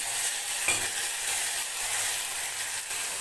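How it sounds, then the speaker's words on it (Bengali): Onion and ground spice paste frying in hot oil in a pan, a steady broad sizzle that runs the whole time with a brief stir or scrape, close and fairly loud with no talking. "এই যে তেলের মধ্যে পেঁয়াজ দিয়েছি আর এই যে বেটে রেখেছি মশলা এটা দিয়ে দিলাম"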